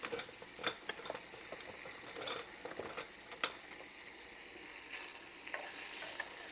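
Pork tips and bacon being stirred in a pan, with soft scraping and a steady sizzle and patter close by, a few sharper knocks of the utensil standing out.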